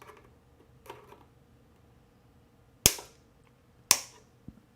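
Two sharp, loud snips of wire cutters clipping the coil leads on a Smok TFv4 mini rebuildable deck with a Clapton coil, preceded by faint clicks and handling, with a quieter tick at the end.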